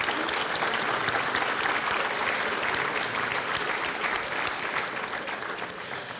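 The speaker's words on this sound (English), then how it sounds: "Mary Beth, Jason, Kara, and Lance, will you stand, please, so we can give you a little round of applause and recognize you." Audience applause fills a breakfast event, steady clapping from a seated crowd held at an even level for several seconds without a break.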